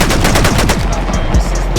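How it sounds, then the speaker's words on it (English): Modded weapons in Fallout 4 fire in loud, rapid automatic bursts, a dense rattle of sharp shots with booming low thumps, close and without talk. "the gun sounds actually sound like guns"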